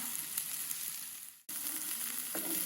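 Onion and red bell pepper sautéing in a pan, a soft even sizzle that cuts out briefly midway and resumes, with a light clatter of stirring near the end, fairly quiet and without speech.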